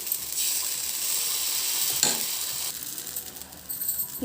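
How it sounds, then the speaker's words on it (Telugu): Wheat dosa (godhuma atlu) batter with cumin, onion, carrot and green chilli cooks on a pan, a soft steady sizzle with a brief scraping clatter of a utensil partway through and more scraping near the end. "ఈరోజు టిఫిన్లోకి గోధుమ అట్లు వేస్తున్నాను నేను"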